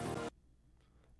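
Unprocessed final chords of an electronic track built in Ableton: a loud, dense chord burst cuts off into near silence, and a second burst starts near the end.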